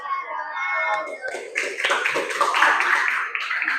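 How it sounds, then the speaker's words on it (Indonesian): Audience applause following a group presentation, scattered hand claps building into a moderate, steady patter that carries on through the end, with a voice heard at the start. "Kasih aplaus."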